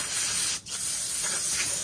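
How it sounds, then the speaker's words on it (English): A short pressurized hiss of brake cleaner sprayed on rear brake parts of a 2016 car, continuous apart from a brief pause, then resuming close by. "clean this too with a brake cleaner"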